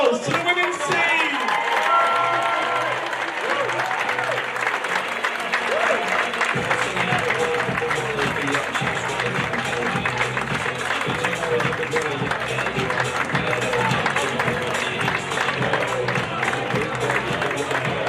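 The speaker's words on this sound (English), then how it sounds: "So a big round of applause to the women's team!" A football club's awards night crowd gives the women's team a long round of applause, steady dense clapping with some cheering that fills the room throughout, with talk mixed in.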